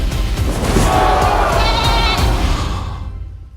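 A goat bleats in an animated Ukrainian-dubbed film trailer, a loud, wavering cry rising out of dense music and effects before everything fades away.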